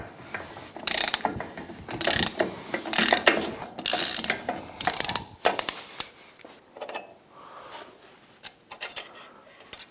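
Ratchet wrench clicking in bursts while backing off the retaining nut on a MerCruiser Bravo One prop shaft, close and loud, with quick pawl ratcheting strokes separated by short pauses, then softer sporadic clicks toward the end.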